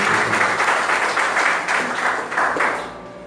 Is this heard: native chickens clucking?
no